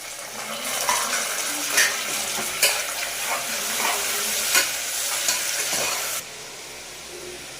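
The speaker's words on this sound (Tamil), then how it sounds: "நல்லா சாஃப்டாக வதக்கி எடுத்துக்கலாம்." Mashed garlic, onion and tomato sauté in a hot pan, sizzling steadily while a spoon stirs with periodic scraping clinks before the frying noise drops off near the end.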